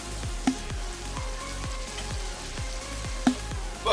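Ground turkey seasoned with salt, pepper and olive oil sizzles and browns in a pan, giving a steady crackling hiss with faint regular ticks and a couple of sharper pops.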